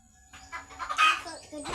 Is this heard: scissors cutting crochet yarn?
no